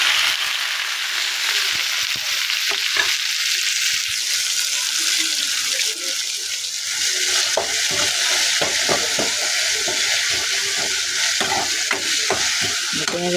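Colocasia leaf thoran stir-frying in hot oil with rice added, a steady close sizzle with scattered scraping stirs and crackles running throughout, no voices.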